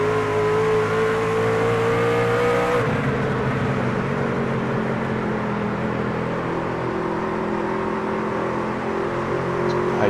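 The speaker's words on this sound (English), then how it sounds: "Just have a listen to how he's having to manage the throttle here now." An ANZCAR Truck Series race truck at Lucas Oil Raceway drones with a strong harmonic engine note that drops sharply after about three seconds as the throttle eases. It then settles into a lower, rougher, carefully held rumble with slight rises near the end.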